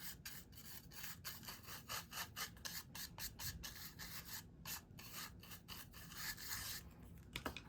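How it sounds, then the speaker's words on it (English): A small brush flicks stray wax bits off a wax seal in quick, rhythmic strokes, each one a soft, close scratchy swish in a quiet room. "I have a little brush like this that I brush them off."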